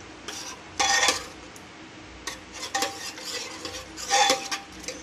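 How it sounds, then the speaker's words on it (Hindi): Rice kheer is stirred in an opened pressure cooker, a spoon scraping the metal pot in a few uneven bursts of clinks and wet scrapes, close and with no speech. "और खीर को चलाएंगे।"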